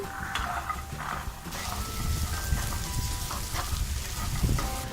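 Green peas tipped into hot oil with browned onion, bay leaves and cumin, the oil left from frying paneer, crackle in a steady close sizzle, with scattered clinks and scraping of a spoon stirring in the pan.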